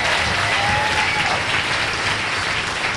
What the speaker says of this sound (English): let's give them a special round of applause.